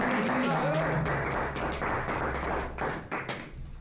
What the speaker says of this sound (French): on l'applaudit une fois de plus, Clémence